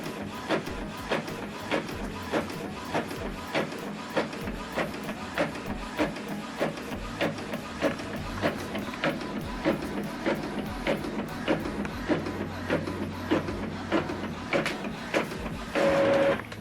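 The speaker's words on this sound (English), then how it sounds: "So now it's printing the second page." An Epson printer printing the second page of a double-sided job, a steady mechanical run of evenly spaced clicks and whirring feed strokes, close and continuous.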